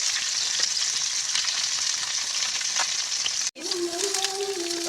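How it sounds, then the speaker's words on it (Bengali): Taki fish sizzle loudly in hot oil in a pan, a dense steady crackle, then a sharp break as a piece is flipped and the frying resumes with a bubbling hiss. "এখন আমি মাছটারে একটু উল্টে পাল্টে নিব।"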